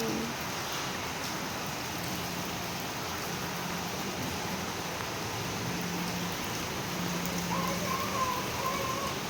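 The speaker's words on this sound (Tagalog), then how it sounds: "Lakas ng ulan." Heavy rain falls in a steady, hissing wash throughout, fairly soft and constant, with a faint bird-like chirp near the end.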